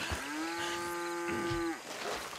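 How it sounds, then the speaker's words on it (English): A single long cow moo rings out in the video game Red Dead Redemption 2, a loud sustained bovine call lasting over a second before fading, with faint background ambience and no speech. "So yes, I thought they were pigs, but no, they're cows."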